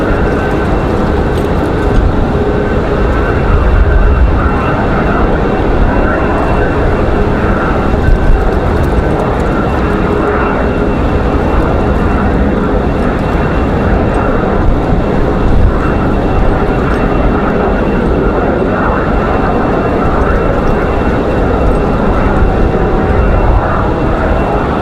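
An airliner lands at Raleigh-Durham on a windy day, a loud, continuous engine rumble and rushing roar dominating without a break, close and heavy throughout.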